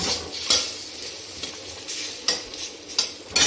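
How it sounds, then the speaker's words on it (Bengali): Potatoes fry in a pan as a side for khichuri, a steady sizzle broken by several sharp scrapes of a spatula stirring against the pan, close and alone without voices. "এখানে এই যে আলু ভাজা খিচুড়ির সঙ্গে হবে"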